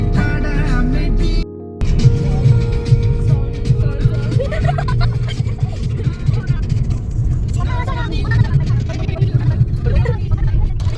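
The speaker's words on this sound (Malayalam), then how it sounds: "അപ്പുറത്തെ വണ്ടി പോണു." A vehicle passes on a nearby road, its engine rumble rising and fading through the background while people talk and chatter close by throughout.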